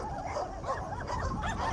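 Several dogs bark and yip in quick, irregular bursts at a middle distance in Fresno, California, over a steady background rumble.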